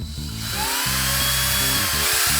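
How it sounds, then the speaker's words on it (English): A small power drill with a very small bit whirs steadily at close range while drilling for a guitar machine head tuner, its pitch dipping briefly as the bit bites and then recovering. "get a really small drill bit and then just drill through"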